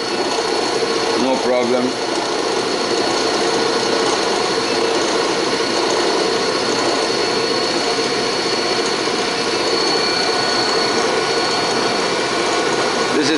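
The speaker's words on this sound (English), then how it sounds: "Generator is running very smooth" An FTC 30 kW generator runs steadily at no load, a constant close mechanical hum and whine that fills the whole clip, with someone talking briefly over it near the start.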